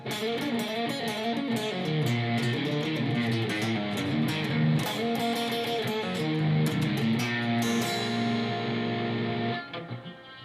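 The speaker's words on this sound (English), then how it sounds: "First, the turnaround played in real speed will sound like this." An electric guitar plays a song's turnaround at full tempo, a dense, driving blues run of picked notes and chords, close and loud without talk, ringing out briefly at the end.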